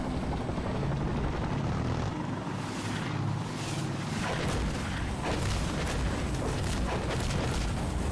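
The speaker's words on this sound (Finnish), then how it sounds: "siellä on vihollisen kopteri" An enemy helicopter's steady thudding rotor roar in the video game Insurgency: Sandstorm fills the scene continuously, loud and close, with bursts of noise layered over it.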